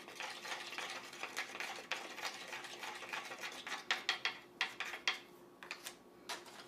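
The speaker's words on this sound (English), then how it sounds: "stir them up" A brush or stick stirs thick, slightly transparent paint in a container, making quiet, rapid tapping and scraping strokes that grow more distinct toward the end.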